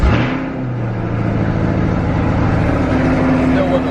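A 2020 Chevrolet C8 Corvette, lowered, fires up with a sharp burst, then settles into a loud, steady, deep engine rumble with strong low tones, close by.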